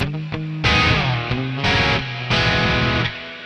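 Distorted electric guitar through a Joyo Atmosphere reverb pedal on its dirty church setting, three loud sustained chords each trailing into a wash of reverb, no voices.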